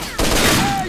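A burst of gunfire from a weapon in the video game S.T.A.L.K.E.R.: Shadow of Chernobyl: a sharp onset followed by a dense, loud rattle of shots lasting under a second, no speech.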